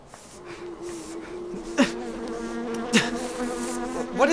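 Close, droning insect buzzing hums steadily, swelling louder in a few sudden passes as the bees fly near.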